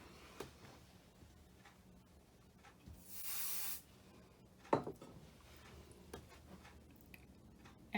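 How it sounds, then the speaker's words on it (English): Spray adhesive is applied to the back of quilting batting in one short, loud hissing burst partway through, surrounded by quiet handling clicks and rustles. "I did add a little bit of spray adhesive to the back of this"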